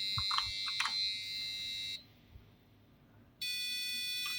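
An Arduino-driven buzzer with its delay set to 1 millisecond gives a shrill, steady electronic tone, then stops for about a second and a half and starts again, with a few clicks near the start.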